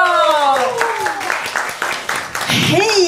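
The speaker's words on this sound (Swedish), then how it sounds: "En applåd för Maria!" A children's show audience claps for Maria, a dense burst of applause lasting a few seconds, loud and close, with a voice talking over it.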